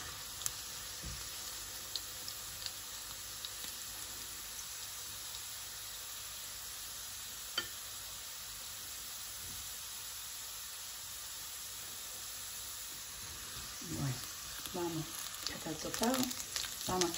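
Steady frying sizzle of cabbage tossed into a pan with toasted garlic, a continuous hiss throughout with a few stirring scrapes and brief bubbling bursts near the end, no voices over it.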